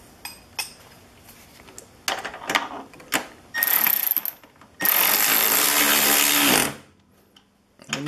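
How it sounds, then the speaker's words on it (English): A power tool tightens a bolt on a Ski-Doo G4 snowmobile clutch, starting with scattered metallic clicks and taps, then short whirring bursts and a sustained loud run of nearly two seconds before stopping. "you want to tighten that bolt back up."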